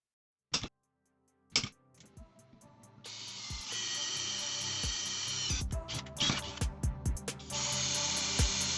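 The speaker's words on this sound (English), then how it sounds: "I just need to drill 2 holes to mount the anti-backlash nut" A power drill whirs in sustained bursts after a couple of sharp knocks, drilling two mounting holes for an anti-backlash nut on an Ender 3 3D printer, running steadily with brief pauses and clicks, close and fairly loud.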